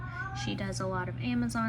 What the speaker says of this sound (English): Sorry, that sound is my cat.